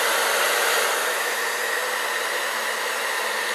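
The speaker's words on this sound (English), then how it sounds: "Have the blow dryer on cool, on high." A blow dryer set to cool on its high setting, blowing a steady, close, loud whoosh of air without a break, used to hold a wig cap in place during a sew-in weave.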